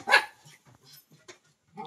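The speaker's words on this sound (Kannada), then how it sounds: "ಇಲ್ಲ ನಾಯಿ ನಮಗೆ ಬೊಗಳ್ತದೆ." A dog barks sharply once up close at a family home, followed by a few fainter yips and whimpers with quiet gaps between them.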